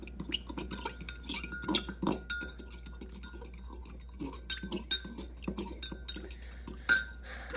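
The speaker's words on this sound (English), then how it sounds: "I'm just going to grind quite a bit in here. All right, and give it a stir." A utensil stirs cucumber salad with black pepper in a bowl, making quiet, irregular clinks and scrapes close by.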